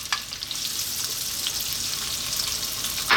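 Onion sizzling and frying in hot olive oil in a pan, a steady close crackling hiss that starts right away and holds for a few seconds, with no talking, for an Ethiopian lamb and potato stew.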